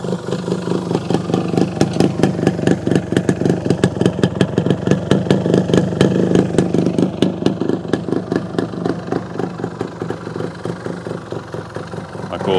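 A 1975 Yamaha DT250 motorcycle idles steadily close by, its engine and exhaust putting out a loud, even stream of rapid pops and clatter for the whole stretch.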